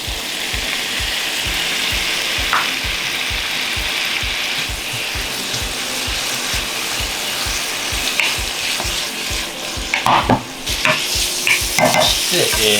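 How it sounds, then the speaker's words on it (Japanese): Sirloin beef, bamboo shoots and green peppers stir-fried in a wok for a restaurant-style green pepper steak dish, with a steady loud sizzle and regular rhythmic scraping strokes of the utensil, no talking. "たけのこを炒めてですね、そこにピーマン、そしてお肉ですね"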